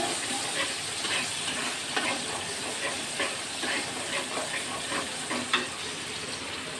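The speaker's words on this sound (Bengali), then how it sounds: "এখন আমার তেল গরম হয়ে গেছে, এর ভিতরে আমি এখন পেঁয়াজটা দিয়ে দেব" Onions fry in hot oil for a village recipe with home-grown bananas, giving a steady hiss and sizzle with scattered crackling pops and occasional stirring scrapes, moderately loud and without any talk.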